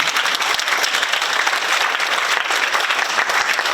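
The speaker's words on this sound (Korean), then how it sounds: "박수 한번 보내주시면." Sustained applause from an audience at the inauguration ceremony of a Korean community council in San Francisco, dense steady clapping filling the whole stretch with no talk over it.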